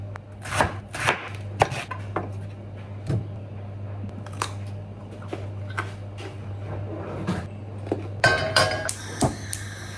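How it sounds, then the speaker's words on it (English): Potatoes are peeled with a knife in a home kitchen in Hong Kong, giving a series of sharp, irregular scraping and cutting clicks close by over a low steady hum, with no talking. "I'm gonna peel these potatoes, which I never really do"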